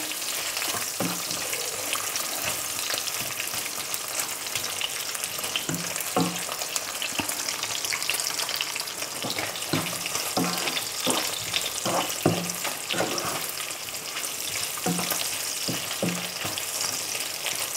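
Homemade bacon, fattier than store-bought pancetta, fries in its own rendered fat in a pan with no olive oil, a steady dense crackling sizzle broken by repeated scraping knocks of a utensil against the pan.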